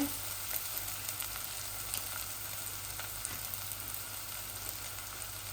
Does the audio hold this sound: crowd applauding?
no